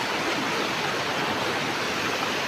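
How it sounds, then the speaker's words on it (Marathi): A river in full flood rushes past at night, a dense, steady roar of water filling the whole short stretch, close and unbroken, with no voices. "नदीचा पूर्ण लोट"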